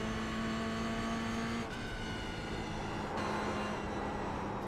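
A video game race car engine drones at steady pitch during a 100-lap Summit Point community event, its tone abruptly shifting twice, with a harmonic whine that sounds synthetic and continuous throughout.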